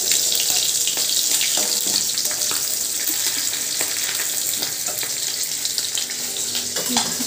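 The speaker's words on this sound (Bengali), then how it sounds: "সেগুলো চলো এগুলো ভেজে তুলে নিই" Whole dried chillies, bay leaf and cumin fry in hot oil, a busy, crackling sizzle that runs close and continuous with small pops and no talk.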